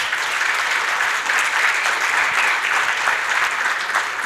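Steady audience applause at an international SuperMap forum in Mexico, a dense wash of many hands clapping evenly for several seconds, close and fairly loud with no voices over it.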